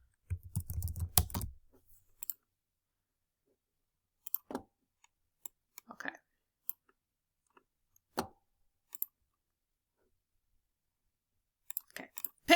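A computer keyboard is typed on in short, sparse clusters of close, crisp key clicks separated by silent gaps, with a brief denser rattle at the start.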